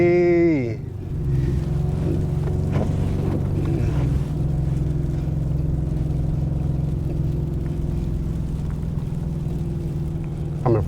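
Mustang GT held in first gear while driving in snow, a loud steady engine drone with low rumble from inside the car, preceded by a brief revving rise.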